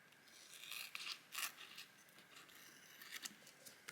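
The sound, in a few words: scissors cutting paper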